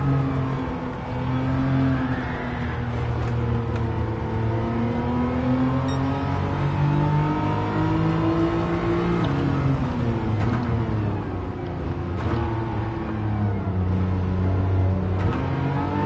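A 1973 BMW CSL with a swapped engine lapping in Gran Turismo 7: steady engine drone with harmonics rising and falling through gear changes, continuous and fairly loud throughout with no voices.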